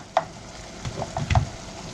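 Garlic stirred in a pot while cooking for black-eyed peas with collard greens and smoked ham hocks: a soft, steady sizzle with a few light scraping clinks of a utensil against the pot.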